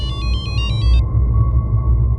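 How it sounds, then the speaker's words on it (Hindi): A landline telephone rings for an incoming call: a rapid burst of electronic trilling pulses lasting about a second, then it stops, leaving a steady low rumble underneath. "लैंडलाइन नंबर से फ़ोन आया"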